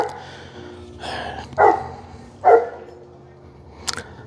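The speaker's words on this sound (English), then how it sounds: "Now every dog decides to bark in the neighborhood." Neighborhood dogs barking outdoors at moderate distance: a few separate, sharp barks spaced about a second apart, followed by a brief yip near the end.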